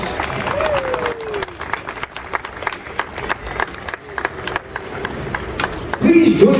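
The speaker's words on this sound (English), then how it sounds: "Let's give her a round of applause." An outdoor crowd at Walt Disney World's Magic Kingdom claps during a flag retrieval ceremony, sharp scattered handclaps over a busy murmur of voices and ambient park noise, growing a little louder toward the end.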